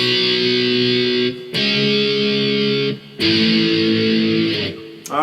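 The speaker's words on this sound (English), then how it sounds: "It's just 4 power chord shapes, strumming in just once" Distorted electric guitar strums four power chords from a song bridge, each chord struck once and left ringing loud and sustained, with brief gaps between.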